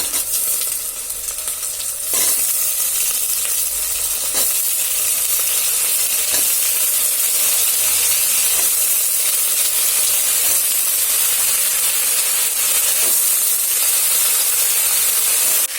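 Onion and radish sautéing in a pan with curry leaves and garlic for a home-style moong bean kulambu, a steady close sizzle with occasional spoon strokes against the pan throughout.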